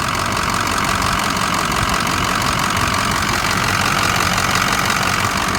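A 2005 Ford F350 diesel engine idles steadily and loudly up close, with a dense, even, rattly drone that holds unchanged throughout during a blow-by check.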